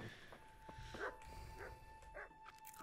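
Dog in Kingdom Come: Deliverance, set in a medieval village in the early morning, giving a few short, excited barks and yips at moderate distance over low ambient game noise.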